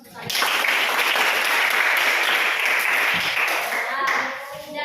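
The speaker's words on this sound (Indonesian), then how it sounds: "Berikan dulu aplaus untuk saya." A classroom of students claps together in warm, sustained applause, a dense burst of hand claps that swells, holds for several seconds and then fades.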